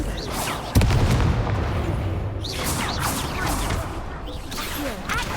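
A Confringo fire-blast spell from Hogwarts Legacy bursts with a sudden booming impact, followed by a sustained rumbling roar, all under a busy battle mix with someone talking over the fight.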